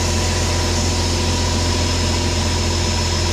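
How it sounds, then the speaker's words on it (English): A PistenBully snow groomer's diesel engine idles steadily inside a shed while its glow plug circuit cycles, a deep, even, low throb with a faint whine above it, continuous and close, with no voices. "it's going to cycle the glow plug circuit for a while until the engine warms up really good"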